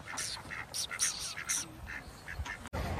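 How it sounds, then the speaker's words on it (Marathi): A duck quacks repeatedly in quick, uneven bursts, close and fairly loud, with a bit of murmured voice in the background, in the Azores, Portugal. "बदक कशी फिरते हे काय बदक"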